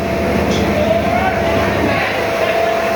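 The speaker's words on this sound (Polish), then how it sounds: "A już jest głośno, ponieważ lokomotywa się uruchomiła." A loud, steady diesel locomotive engine rumble in Vietnam fills the scene with a low drone and a faint whine, the locomotive idling after starting up.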